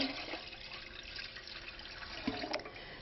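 Water running and splashing into an empty metal canner set on a heat source, a quiet steady pour with small gurgles and a brief clink near the end.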